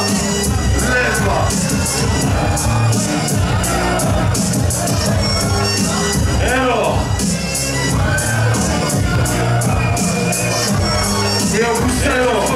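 A large concert crowd at a live show in Gdynia cheers, shouts and claps continuously and loudly throughout, a dense wall of voices with chanting swells and scattered whoops.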